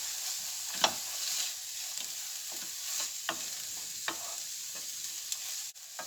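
Onions, peppers and chilli sizzle in a pan for a vegan curry, a steady soft frying hiss broken by the light scrapes and taps of stirring, close and alone without talk.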